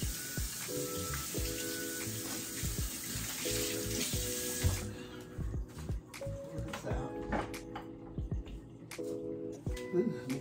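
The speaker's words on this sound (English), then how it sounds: "Let me wash my hands." Tap water runs into a sink during handwashing, a steady rushing hiss that stops halfway, then soft clinks and movement at moderate volume.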